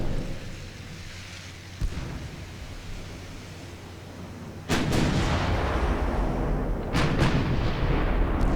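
A battlecruiser's 12-inch guns fire in the naval warfare game Ultimate Admiral Dreadnoughts, set in 1910-era Britain. Heavy booming blasts with a rumbling tail sound over a constant low roar, and the later shots land in a close cluster.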